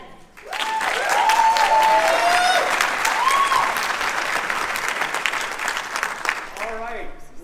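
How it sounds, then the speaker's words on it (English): Conference audience at Social Media Marketing World 2019 applauding a speaker as he takes the stage; a loud, full round of clapping that swells quickly, holds, then thins out, with a few voices and whoops mixed in. "Let's give a warm round of applause for Dan."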